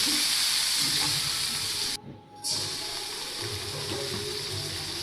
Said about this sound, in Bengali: পেঁয়াজ কুচিগুলো হালকা নাড়িয়ে নিতে হবে এবং একটু ভেজে নিতে হবে